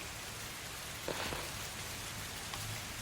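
Steady rain falls during a French tabletop role-playing session set in a storm, a constant wash of patter with a couple of brief louder drops, no voices over it.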